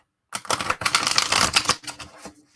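Moon Baby tarot cards are riffle-shuffled and bridged, a loud close rapid flutter of cards lasting about a second and a half, then a few softer settling taps.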